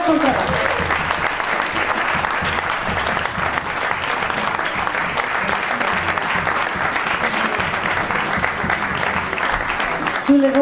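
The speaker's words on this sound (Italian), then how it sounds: "Un grandissimo applauso per Attilio Zanchi al contrabbasso." Applause from a jazz club audience for the double bass player, a dense, sustained clapping that stays loud and close throughout, with a voice speaking over it at the start and end.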